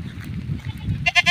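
An adult female goat in a village gives a short, wavering bleat at the very end, following a low, murmuring background.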